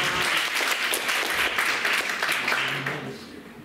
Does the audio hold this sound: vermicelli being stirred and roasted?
no